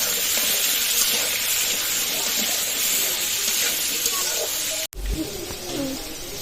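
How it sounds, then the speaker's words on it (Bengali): Steady, loud hissing sizzle of potatoes frying in hot oil, continuous throughout with a brief cut near the end. "এবার আলুটা ভালো করে ভেজে নেব"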